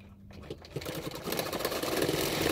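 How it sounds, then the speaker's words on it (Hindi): A sewing machine stitches a seam on a katori blouse cup with a half-inch margin. It starts up and settles into a steady, close whirring run. "अभी उसको भी 1/2 इंच मार्जिन रखते हुए मैं और एक सिलाई डाल दूंगी।"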